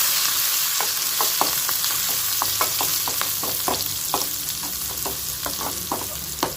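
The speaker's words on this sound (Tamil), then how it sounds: "இது எல்லாமே சேர்த்து நல்லா வதக்கி வச்சுக்கலாம்" Steady hiss of garlic and curry leaves sautéing in a hot pan, with frequent scrapes and clicks of a utensil stirring, close by and continuous.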